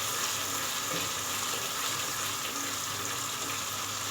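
Masala mixed with ground nuts frying in a pan for nargisi kofta curry, giving a continuous dense hiss of sizzling oil at a steady level, close and unbroken with no speech.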